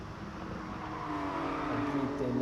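Race cars in a racing video game, an event at the Alsace Village II track, come through on the track. A steady engine drone with rising pitch grows slightly louder as they approach, and no voices are heard.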